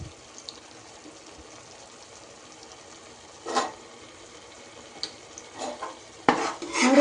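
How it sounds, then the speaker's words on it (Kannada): Chopped onions frying in melted butter in a cooker pot for bhaji, with faint sizzling and intermittent scraping of a spoon stirring against the metal, the stirring strokes growing busier toward the end. "ಚಂದ ಮಾಡಿ ಕೊಚ್ಚಿಟ್ಕೊಂಡಂಥ ಈರುಳ್ಳಿಯನ್ನು ಹಾಕಿ ಚಂದ ಫ್ರೈ ಮಾಡಿಕೊಳ್ಳುವ"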